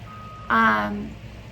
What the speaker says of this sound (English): That beeping again.